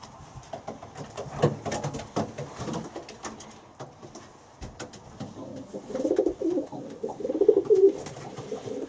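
Soft pigeon cooing in a quiet space, low murmuring calls that swell and fade, with faint rustling and a few light knocks.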